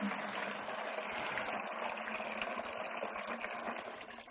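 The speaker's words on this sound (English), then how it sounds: "we're going to put the water in first" Water poured steadily into a measuring pail before mixing concrete for a basement floor, a continuous close gushing and filling sound without talk.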